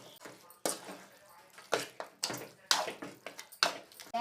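Boiled mutton cooking water poured into a mutton curry, several splashy gushes and sloshes in quick bursts with short pauses between, close and fairly quiet.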